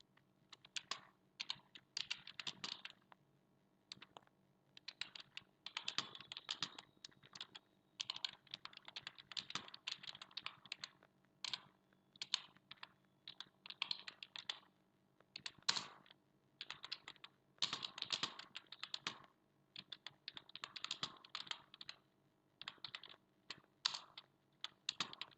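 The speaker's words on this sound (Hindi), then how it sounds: "मैं यहाँ पर कुछ टाइप कर लेती हूँ।" Continuous fast typing on a computer keyboard while entering text in Windows 10 Notepad, a steady patter of small clicks with a few louder keystrokes, fairly quiet and close, with no voices.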